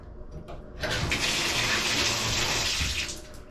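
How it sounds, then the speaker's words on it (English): A home shower head with a Delta spigot bursts into a loud, steady hissing spray after a brief quiet start, running close and alone. "This is the noise my shower head makes"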